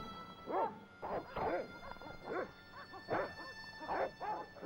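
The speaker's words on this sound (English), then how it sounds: "Okay, that got the dogs growling." Dogs in the Broken Sword video game give repeated low growls and whimpering yips in an uneven rhythm, close and steady under a faint electronic hum, with no talking.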